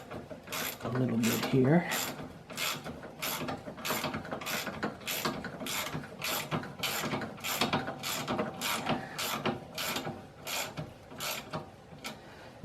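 A ratchet socket wrench with a 13.5 metric socket tightens a fastener on a Craftsman snowblower during a gear shift repair, making a long run of evenly spaced, crisp ratcheting clicks up close, with a brief spoken phrase near the start.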